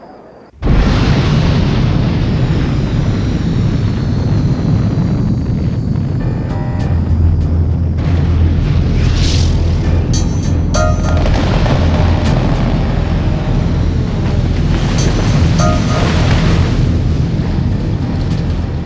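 A huge atomic bomb blast opens with a sudden heavy boom, then a long, loud, continuous roaring rumble that rolls on for many seconds, with crackles and bursts layered over it.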